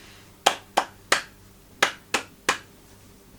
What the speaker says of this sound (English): Sometimes they do some kind of weird clapping.